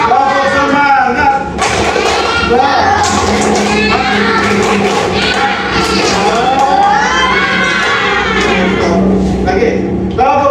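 Classroom groups of children perform a rhythmic spirit clap, bursts of clapping and thumps mixed with loud chanting and shouting voices throughout.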